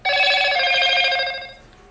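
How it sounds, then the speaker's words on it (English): A phone rings with a bright, steady electronic tone that holds loud and close for over a second before fading out, with no voice over it. "Turn off my notification on my phone."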